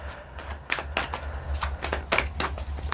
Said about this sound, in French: Je prends d'autres cartes du tarot.